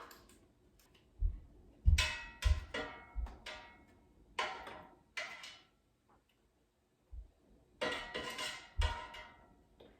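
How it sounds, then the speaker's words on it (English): A spatula scrapes and knocks against the basket of an air fryer, breaking apart thawed frozen scallops: a series of short, sharp metallic clacks and scrapes in irregular bursts, close and fairly loud, with brief quiet gaps between. "I'm just going to take a spatula and break them up"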